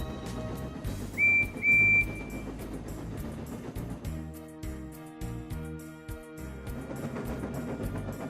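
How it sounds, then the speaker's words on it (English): Railway guard's whistle gives one short, shrill blast over a busy orchestral music bed as a small tank engine sets off. "At last, the guard blew his whistle and Percy set it off."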